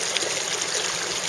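Water and gravel rushing through a gravity dredge sluice, a continuous, close, splashy stream of flowing water with gritty hiss, heard alone for a brief moment.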